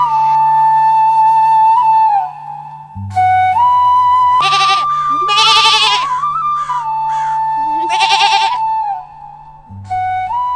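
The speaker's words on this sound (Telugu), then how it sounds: "ఏవయ్యో అక్కడ మేక అరుస్తున్నట్టుంది" A goat bleats loudly and repeatedly at close range, a string of long wavering cries with brief gaps between them.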